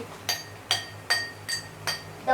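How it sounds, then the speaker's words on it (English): A pencil taps a drinking glass five times in a steady, even rhythm, each strike giving a bright, ringing clink that fades quickly, close and clear against a quiet background. "Use the pencil to bang with the glass."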